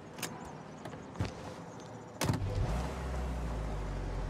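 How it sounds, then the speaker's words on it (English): A car in the video game Mafia Definitive Edition: a door thuds shut, then a low engine hum rises and holds steady, with no voices. "Drive before the cops show, Tom."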